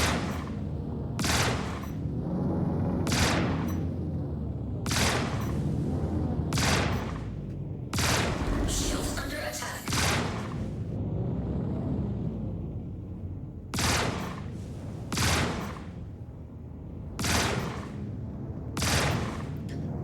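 Ship guns fire in the space game Star Citizen, heard as about a dozen loud, sharp bursts at fairly regular intervals over a continuous low rumble, with no voices.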